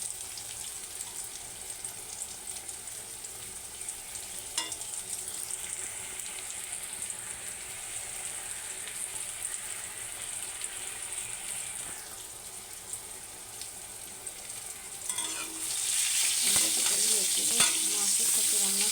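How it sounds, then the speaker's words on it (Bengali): Pointed gourd (potol) frying in a pan gives a steady, close hiss and crackle with occasional stirring, and a brief burst of running water joins in near the end. "এই যে এখানে পটল ভেজে নিচ্ছি"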